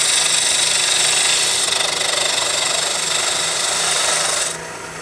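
A wood lathe turns a walking stick cap at about 2,000 RPM under gentle cuts, making a loud, steady rasping hiss that drops off sharply near the end.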